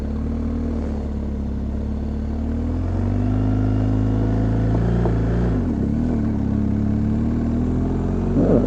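A motorcycle engine runs steadily close by as the rider works the clutch on a rough downhill trail in West Virginia, the engine note rising and dipping with a few revs and no talk.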